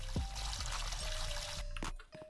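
A shower runs in the Roblox Brookhaven video game, a steady close hiss of pouring water under a faint electronic tone, cutting off near the end.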